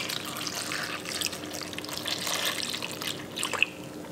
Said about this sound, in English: Pour in the sauce.